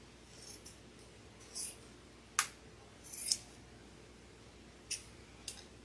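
Fabric scissors snip a few times, close and quiet: a handful of sharp, separate cuts spread over a few seconds against a soft room hiss, with no talking.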